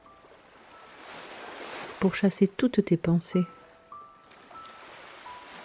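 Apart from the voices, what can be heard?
sea waves on shore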